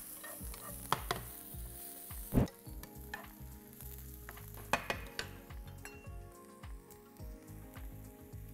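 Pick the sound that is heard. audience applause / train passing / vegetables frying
vegetables frying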